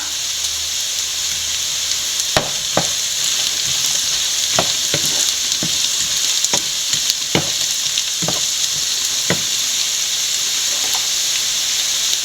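Coconut bits, onion, shallots, ginger, garlic and green chilli sauté in a pan for a Kerala rabbit roast as curry leaves go in: a steady close sizzle with sharp, irregular spoon scrapes and clicks throughout.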